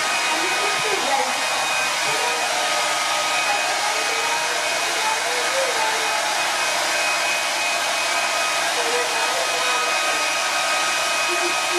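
A blow dryer runs continuously during at-home hair coloring, making a loud, steady whir that lasts the whole time with no break.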